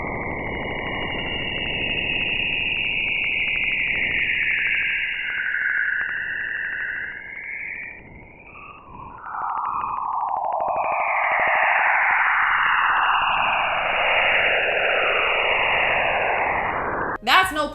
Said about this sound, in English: recorded by NASA's Juno spacecraft as it was observing the plasma wave signals from Jupiter's ionosphere